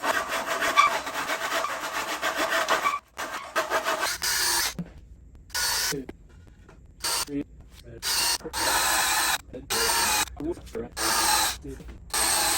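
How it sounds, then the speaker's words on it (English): Hand sawing through a California Closet panel during installation: rapid rasping strokes in bursts separated by short pauses, close and fairly loud, with no talk. "And then I'm going to cut it."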